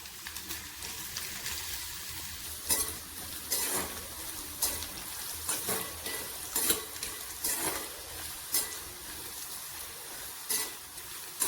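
Chopped ginger sizzles steadily in oil in a pan while a utensil stirs and scrapes at irregular intervals, close by, with no voices.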